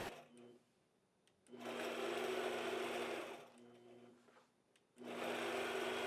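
A sewing machine quilts chevrons along a ruler, running in two long, steady, loud whirring bursts separated by quieter pauses with softer handling sounds.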